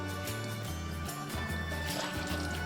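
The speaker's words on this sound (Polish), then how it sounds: "Każdy ogórek dokładnie myję pod bieżącą wodą, by usunąć wszelkie zanieczyszczenia." Running tap water pours steadily over cucumbers being washed for pickling, a continuous close trickle and splash with a low, rhythmic background hum throughout.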